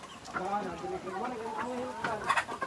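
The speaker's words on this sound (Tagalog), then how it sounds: "naglapitan yung mga manok ni Ebyo." Several chickens cluck and chatter nearby in a busy, continuous stream of short calls while being fed corn.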